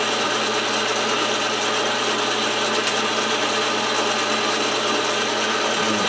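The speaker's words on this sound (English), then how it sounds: "And we're using a center drill." A steady, dense machining noise with a grinding, rasping texture continues without pause, a lathe with a center drill boring into metal.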